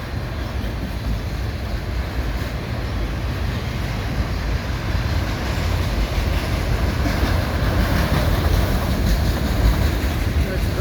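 A Quebec Gatineau Railway freight train with ex-BNSF and ex-CN locomotives rumbles past steadily at close range while switching a yard, a continuous heavy mechanical roar with faint rhythmic clatter throughout.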